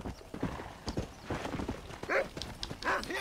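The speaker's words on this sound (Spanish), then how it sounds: "Caballo debilucho y lento." A horse in Red Dead Redemption clops along at a steady gait with hooves striking in rhythm, then lets out a couple of whinnies near the end, close and clear with no talking over it.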